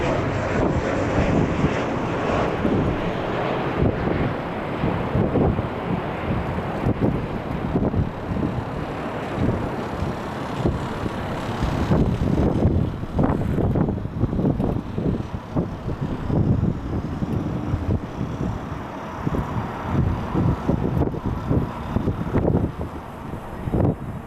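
An airliner departing LAX for runway 24 Left gives a steady, broad roar of jet engine noise throughout, heard from a distance with wind buffeting the microphone.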